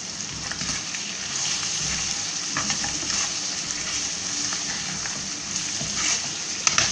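Bhuna gosht meat frying in a pan, a steady close sizzle with stirring scrapes and occasional sharper crackles, no talking.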